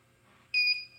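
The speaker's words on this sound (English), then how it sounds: "So this button beeps." A single short electronic beep sounds from a button on a WHDTS 4-bit digital clock kit, a bright steady tone lasting about a quarter second, close and clear.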